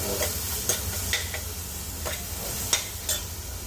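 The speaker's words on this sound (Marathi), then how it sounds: "ही भगर आपण छान अशी थोडीशी किमती परतवून घेऊया" Washed barnyard millet being sautéed in a pan gives a soft, steady sizzle over a low rumble, with several sharp scraping strokes of a spoon at irregular intervals.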